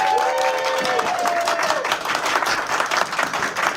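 A wedding audience bursts into applause and clapping right after the couple is pronounced man and wife, a full crowd sound with some cheering mixed in and a brief tonal sound at the start.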